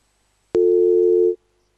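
A phone line tone on a call-in radio show after a caller's call drops: one steady, fairly loud electronic tone lasting under a second, alone, with silence before and after.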